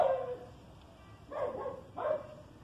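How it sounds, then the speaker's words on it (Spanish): A dog barks in a home garden, one bark followed by two more after a pause, moderately close and alone without talk. "Ay, pinche perro."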